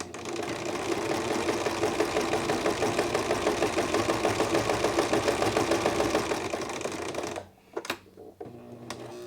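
A sewing machine stitches knit quilt fabric in a fast, even run of needle pulses for about seven seconds. It then stops, followed by a few sharp clicks and handling noises.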